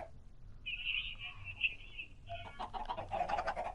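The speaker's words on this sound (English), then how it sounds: "these poor chickens" Chickens in the Minecraft video game cluck and squawk close by, a sustained high call followed by a burst of rapid clucking, fairly faint with no talk over it.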